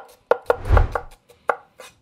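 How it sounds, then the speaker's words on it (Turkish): A knife cuts onions into half-moon slices on a cutting board, about six crisp, close knocks at an uneven pace with no talking. "Soğanlarımızı bu şekilde yarım ay şeklinde doğruyoruz."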